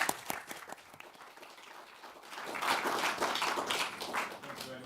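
Audience applause for a panel at a Conservative Home event closing in a hall, starting as a few scattered claps and swelling into fuller, steady clapping through the second half, moderately distant.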